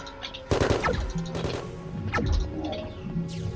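Heavy shotgun blasts boom in an indie space game as intruders attack a ship, several loud impacts with clanking crashes between them and a low hum underneath.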